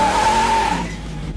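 Tires squealing in a burnout, either a 1967 Camaro called the Crusher or a 1970 Dodge Super Bee: a loud, near, sustained high squeal over engine roar, fading out within about a second.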